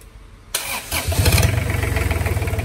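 An Iseki 30 hp, 83 mm marine boat engine cranks over and fires up, then settles into a loud, steady, rapid chugging idle close by.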